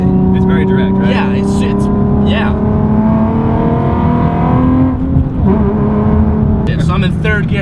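Nissan 370Z Nismo tuned to 400 hp, its engine droning and revving steadily up through the gears with a continuous loud tone, while people talk over it inside the car.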